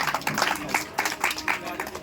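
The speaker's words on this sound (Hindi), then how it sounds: "तालियां बजा" Audience at a Shani Dham temple gathering clapping in applause, a string of brisk, uneven claps close by, with a voice briefly mixed in.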